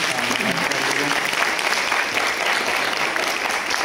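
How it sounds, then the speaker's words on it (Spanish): An audience applauds a teacher after her lecture on the structural framework of patriarchal power: loud, continuous clapping from a crowd throughout, with faint voices mixed beneath it. "Por favor, démosle un fuerte aplauso a la maestra Lilia."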